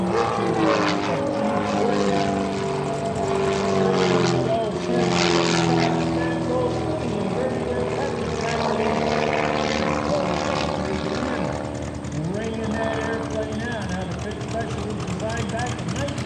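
Propeller airplane taxiing past the crowd at the 2024 Westmoreland County Airshow, a steady droning engine with shifting harmonic tones, loud and continuous under an announcer's talk.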